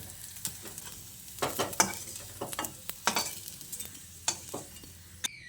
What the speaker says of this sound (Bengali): দেখুন কচুগুলোকে আমি লালচে করে ভেজে তুলে নিচ্ছি